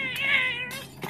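A cat meows in the South Park: The Fractured But Whole video game, one drawn-out meow followed by a short second call, close and clear with no talk.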